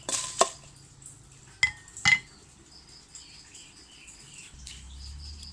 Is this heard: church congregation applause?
no